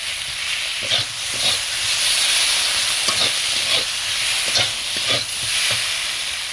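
Cumin and dry chili paste being stirred into boiled potatoes and eggplant in a hot pan, with a steady close sizzle and several distinct scraping stirs of the spoon through the mixture.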